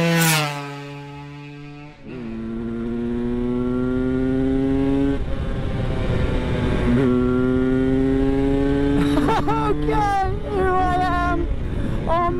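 A British-built 999 Laser 250cc two-stroke V-twin motorcycle engine revs up and holds a loud, buzzy idle-to-rev drone close by, with throttle blips and changing pitch near the end.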